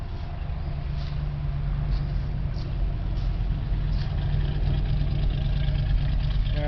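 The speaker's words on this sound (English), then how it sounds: "let it idle for a little bit, warm up, and then I'll try to move it" A 1977 Dodge van engine idling, a steady low rumble with an even mechanical pulse that holds at a constant level throughout, up close and with no talk over it.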